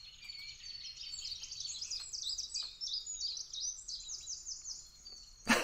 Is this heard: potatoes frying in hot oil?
no